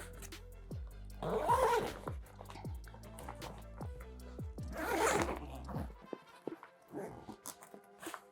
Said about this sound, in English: I like the zippers on this thing. They're very smooth.